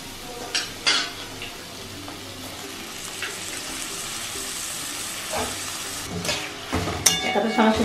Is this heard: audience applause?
no